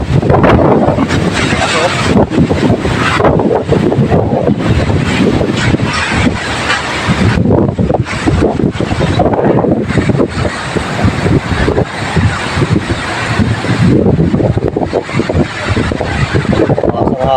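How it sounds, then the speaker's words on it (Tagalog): Strong gusty typhoon wind buffets the microphone in heavy roaring bursts among banana plants, with a voice talking intermittently underneath. "Hangin dito."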